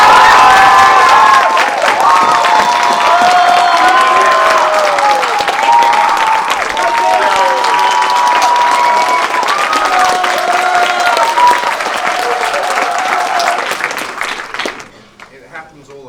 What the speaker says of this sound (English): That I get more applause than Bob.